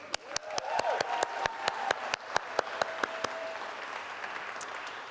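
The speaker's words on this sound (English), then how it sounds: "And now we applaud." Sparse, distinct claps from an audience at a literary society summer party, fairly quiet, with a soft background murmur of voices; the clapping thins out and fades toward the end.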